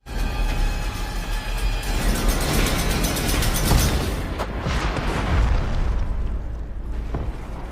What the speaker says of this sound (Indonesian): menembak pom bensin yang membuatnya meledak dan membakar parasit